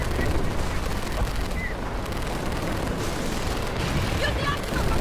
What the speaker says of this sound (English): Sir, we're taking fire! Move your ass to the shingle. Taking MG fire!